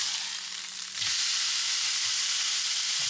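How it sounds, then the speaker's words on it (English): Fish sizzles steadily in a hot frying pan close by, a dense, continuous hiss that grows louder after about a second as it settles in, with faint clinks underneath and no talking. "So I've placed the fish on the frying pan"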